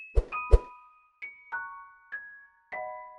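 A series of bright bell-like chimes and dings sound one after another, spaced apart, clear and close with quick decays.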